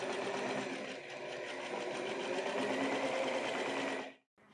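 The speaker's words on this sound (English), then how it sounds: "While we're at it, sew the inside of the leg." A sewing machine runs steadily, stitching the inside leg seam of men's trousers, a close, continuous whirring hum that holds for about four seconds and then stops abruptly.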